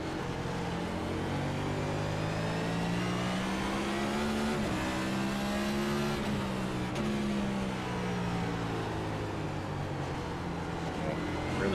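Simulated NASCAR stock car engines roaring around Martinsville in iRacing, a loud, continuous close-up drone whose pitch climbs and dips as the car throttles through corners, with other cars' engines packed in around it.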